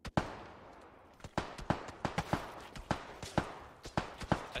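Gunshots in PUBG aimed at a rooftop: sharp single cracks fired one after another in an irregular rhythm, about a dozen over a few seconds, each with a short fading tail and no voices over them.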